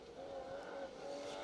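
A BMW rally car powers along a gravel stage at a 2WD rally event, its engine droning steadily at a distance, faint and muffled with a sustained tone rather than a close pass.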